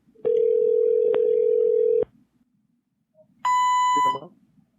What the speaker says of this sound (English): Calling Tach Van Sickle